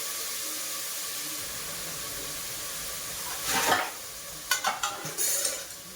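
Cut brinjal and potato pieces fry in oil with a steady close sizzle, broken late on by a few louder stirring scrapes and clatters of the pan; no one talks.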